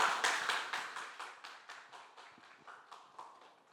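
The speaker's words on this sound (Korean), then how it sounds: "각자의 자리에서도 우리 박수로 힘차게 우리 강사님 환영하도록 하겠습니다" A church congregation at a Sunday service claps to welcome a guest speaker, giving steady rhythmic hand claps, fairly close and moderately loud, that fade slightly over a few seconds with no talking.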